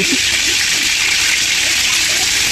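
Water pours steadily into a pot of sendha vegetable cooking on a clay chulha stove, giving a loud, close, continuous gushing splash for the whole stretch.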